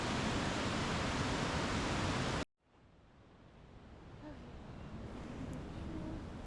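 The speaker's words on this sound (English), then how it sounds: "Looking at the rushing water." Loud, steady rushing water in Maligne Canyon in the Canadian Rockies roars for a couple of seconds, cuts off abruptly, then returns more softly and gradually builds up again.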